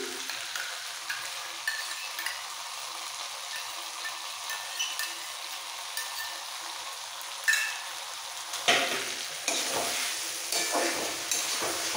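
Pointed gourd, potato and prawns sizzling in a pan with whisked homemade sour yogurt, steady frying crackle with scraping stir strokes and louder bursts of sizzle toward the end.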